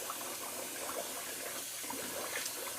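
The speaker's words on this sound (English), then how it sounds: "I'm just going to add a little more water to my sink" Tap water runs steadily into a bathroom sink during a wet shave, a faint, even rushing hiss with no pauses.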